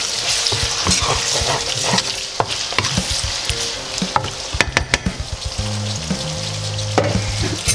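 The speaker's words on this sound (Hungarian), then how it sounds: "Megkeverjük." Chinese fried noodles sizzle steadily in a hot pan while being stirred, with repeated scraping and clattering strokes of a utensil over the continuous frying hiss; a lower hum runs underneath toward the end.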